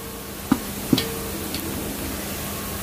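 Onions frying until golden in a pan over a chulha, a steady soft sizzle with a few sharp ticks and taps of a utensil against the pan, close and continuous with no talking.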